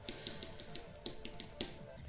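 Computer keyboard keys clicked rapidly during Geometry Dash gameplay on hard to insane demon levels, a string of sharp, close taps in uneven rhythm, about a dozen clicks.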